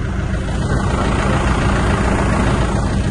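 A tractor pulling a passenger trolley at a cherry and blueberry farm in Connecticut idles steadily with a deep, continuous rumble, loud and close, with no talking over it.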